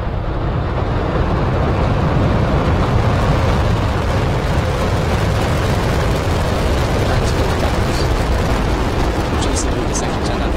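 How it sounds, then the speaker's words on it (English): A Falcon 9 rocket lifts off with the JCSAT-14 satellite, a steady, dense, loud roar that fills the whole stretch without pause, heavy and rumbling like distant thunder. "Liftoff of the Falcon"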